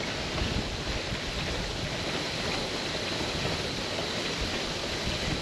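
A hand pump transfers fuel into a fuel jug, giving a steady, loud rushing and gurgling liquid flow that fills the whole stretch close up.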